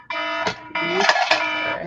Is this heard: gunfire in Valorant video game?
no